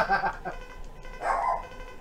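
Two short, bark-like yelps sound close and fairly loud, the first at the start and the second about a second later, during a Mega Man X5 gameplay session from the Legacy Collection.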